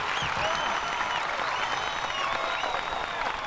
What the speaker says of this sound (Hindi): मैं जानता हूं ये तालियां मेरे लिए नहीं